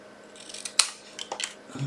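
Scissors snip through a Christmas card, a sharp close crisp cut with a few softer rustling snips following, alone with no talk.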